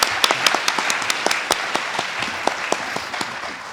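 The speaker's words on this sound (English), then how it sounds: "So maybe a little applause for our students willing to come up here and ask the questions." An audience claps for students at a mayoral debate, a fairly brief round of scattered applause with distinct hand claps that stays moderate and fades slightly toward the end.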